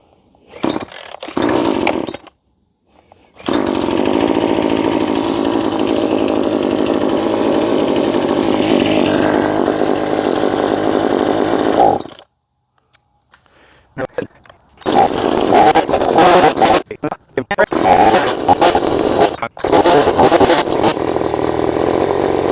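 A Blue Max chainsaw on its first tank of fuel roars loudly in two long bursts with short silent gaps, then revs in choppy uneven spurts, close and alone without talk.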